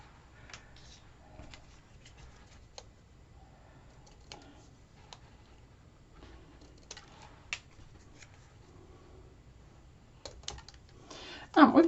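Scissors snipping through folded paper while making a garden box inner lid, a scatter of short crisp cuts and rustles at close range, with faint quiet background and a louder handling clatter at the end.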